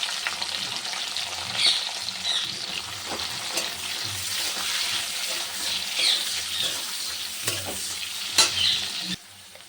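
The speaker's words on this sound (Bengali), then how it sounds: "আগে ক্যাপসিকামটা ভেজে নেবো একটু।" Capsicum fries in a pan where chicken has already been browned, giving a steady loud sizzle broken by repeated scraping stirs of a utensil, with no talking, until the noise cuts off abruptly at the end.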